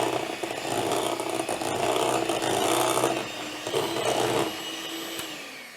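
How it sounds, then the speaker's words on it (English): An electric hand mixer whirs steadily and loudly as beaten eggs are worked into cake batter for iced buns, the motor pitch wavering slightly as it moves through the mix, with no talking. "Here we go with the mixer again."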